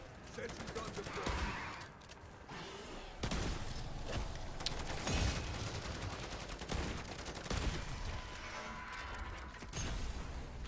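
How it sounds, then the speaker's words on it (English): A sentry gun in MW3 Zombies fires sustained automatic volleys, loud and close, in pulsing bursts with brief gaps. Mechanical clatter and other game effects run underneath. "Sentry gun deployed."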